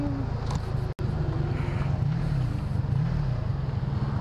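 A lowered car rolls past close by, its steady low engine drone and road rumble filling the whole stretch with a brief dropout near the start, no talking over it.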